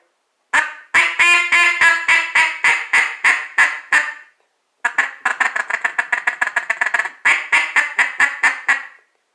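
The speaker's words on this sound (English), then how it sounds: "this is the only double reed duck commander call I have out here in my shop right now currently" Duck Commander double reed duck call blown in a shop, giving two runs of loud raspy quacks: first a slower series of evenly spaced notes, then after a short gap a faster, more rapid string, close and alone.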